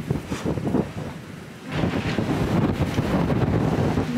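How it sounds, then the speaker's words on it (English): Strong wind gusting outdoors around a house and property, a loud continuous roar with rumbling buffeting against the microphone, easing briefly then building again and holding steady. "The wind is super strong here."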